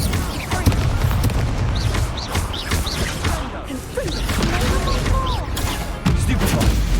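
Incendio fire spell cast during a Hogwarts Legacy duel, a whooshing burst amid a steady run of booming spell impacts and thuds in a loud, dense fight.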